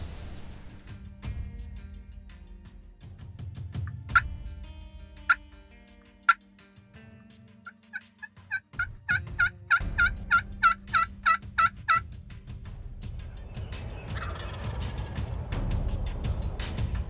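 Wild turkey gobbling during a midday spring turkey hunt outdoors, several sharp gobbles spaced apart then a fast rattling series of calls, fairly near and loud over quiet background with light rustling.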